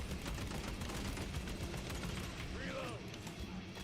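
Rifle gunfire in the video game Warhammer 40000: Space Marine 2, a steady dense stream of shots and combat noise running throughout at a constant loud level.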